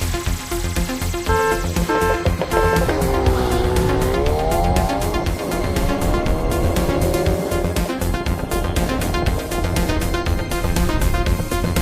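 Hot hatchbacks, among them a Ford Focus RS, Honda Civic Type R, Audi RS3 and Mercedes-AMG A45, race from a traffic-light start: engines roar and tyres squeal loudly and steadily, with music underneath throughout.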